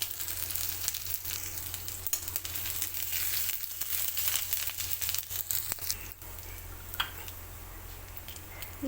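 Whole dried red chillies, bay leaf, whole cumin and ginger paste fry in hot oil for a fish-head moong dal, with loud, continuous close crackling and spitting throughout and occasional sharper pops.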